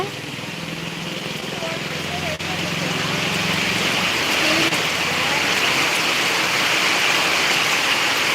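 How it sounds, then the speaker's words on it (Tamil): Heavy sudden rain pours down in Madurai, a steady broadband hiss that stays loud and constant throughout, with faint voices briefly audible underneath early on. "மதுரை திடீர்னு செம்ம மழை"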